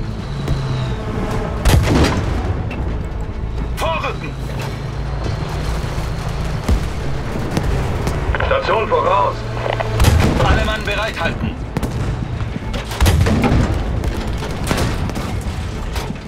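Cannon and artillery fire booms in a Battlefield V battle, with several loud, sharp blasts spaced over a dense combat din and a voice shouting in German.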